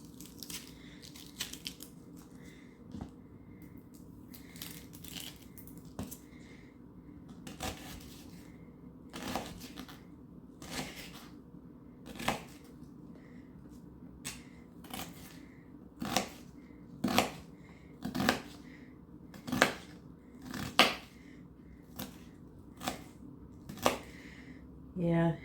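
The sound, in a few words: knife dicing an onion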